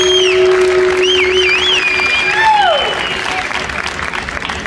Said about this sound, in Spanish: Y que se escuchen estos aplausos para despedir a Mister San Luis Norte.